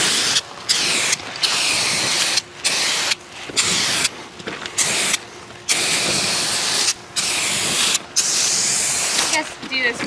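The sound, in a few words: spray painting a car black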